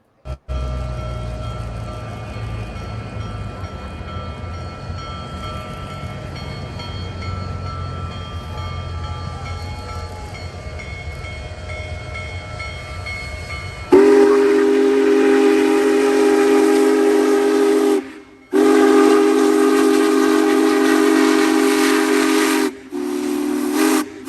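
Union Pacific 4014 Big Boy steam locomotive rumbles past with its train, then lets out a loud, sustained steam whistle blast that breaks off briefly and resumes, heard close by with no talking.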